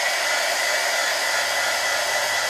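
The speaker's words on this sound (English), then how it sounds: "I also just gonna give it one more quick shot with the heat gun" Heat gun blowing a steady, loud stream of hot air over layered mixed media artwork, a continuous close whoosh with no talking.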